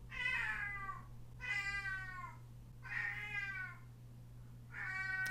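A cat meows four times, long drawn-out cries at a steady pace, close by, over a low constant hum.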